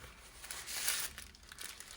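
Tissue paper being handled and crinkled for a collage, a quiet soft rustle swelling briefly then fading into faint crackles.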